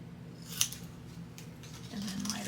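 Scissors snipping paper to cut a miter on a folio cover, a few soft close cuts with a sharper snip near the start, quiet throughout.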